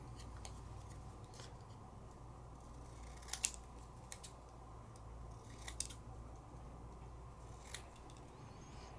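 Scissors trimming stamped paper for a scrapbooking craft: a few crisp snips stand out over a quiet, steady background hum.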